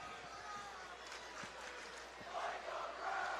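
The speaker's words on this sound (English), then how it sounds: "the St. Joe's crowd getting into it, chanting Micah Brown's name after that juke" A high school football crowd at St. Joe's cheers and chants a player's name after a big run, a distant, washy roar that swells toward the end.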